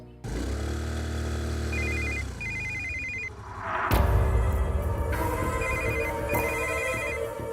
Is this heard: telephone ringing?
yes